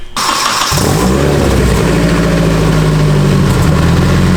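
A Volkswagen engine fires up after a turbo pipe and MAF repair, catching with a quick start and then holding a loud, steady, close revving drone.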